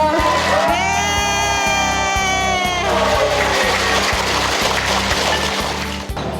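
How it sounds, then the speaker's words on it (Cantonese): At a company's 50th anniversary grand dinner, a crowd in a banquet hall cheers and whoops loudly over steady clapping, with music playing underneath throughout. "大家掌聲可唔可以再大啲啊？"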